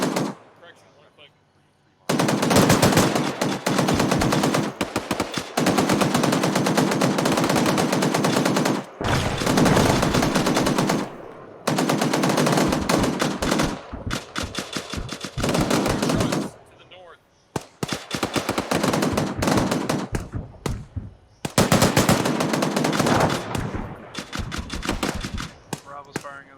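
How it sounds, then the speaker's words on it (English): Machine-gun fire in the military game ArmA 3 comes in long, loud, sustained bursts broken by short pauses, with several separate volleys across the stretch. "Bravo's firing as well as Mark 19's are doing some work though."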